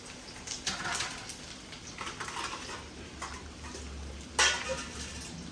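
Garlic cloves fry in hot oil in a pan for a village-style Gujarati garlic curry, with a soft continuous sizzle under occasional scraping and clinking of a utensil against the pot, and one sharper clatter near the end.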